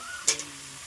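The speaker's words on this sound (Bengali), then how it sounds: "এখন জল দিয়ে দেবো।" Water is poured into a pan of cooking green jackfruit, giving one short, sharp sizzle with a quick second hiss, then a low steady simmer.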